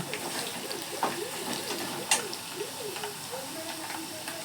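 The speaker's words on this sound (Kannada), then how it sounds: "ಈಗ ಆಲೂಗಡ್ಡೆ ಒಂದು 2 ನಿಮಿಷ ಫ್ರೈ ಆಗಿದೆ ಎಣ್ಣೆಯಲ್ಲಿ" Potatoes frying in oil in a pan, a steady soft sizzle with intermittent scraping strokes from stirring and a couple of sharper clicks, close and moderately loud, no voices.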